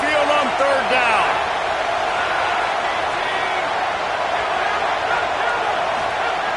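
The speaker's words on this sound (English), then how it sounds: "The Tide crowd rolling noise down on the Saban field on 3rd down." A packed Alabama Crimson Tide football crowd roars on third down at Saban Field, a dense, steady wall of cheering with scattered whoops and whistles that holds loud for the whole stretch.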